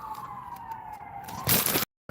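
Wailing emergency vehicle siren sweeping slowly downward in pitch as it passes nearby, then a brief loud burst of broadband noise before an abrupt cut to silence.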